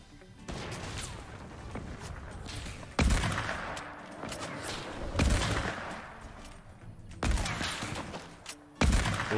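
Sniper rifle shots in Fortnite Battle Royale's One Shot mode, several loud sharp cracks spaced a few seconds apart, each followed by a decaying echo over a busy game background.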